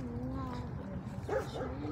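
A dog gives short whimpering yips and a small bark close by, mixed with a low background drone.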